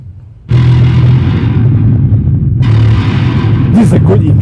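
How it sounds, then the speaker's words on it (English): A synthesizer explosion effect in a metal-style rig demo bursts in loudly after a brief pause, a dense booming roar that swells again midway and ends in warbling, sweeping tones. "Whoa, this is the explosion."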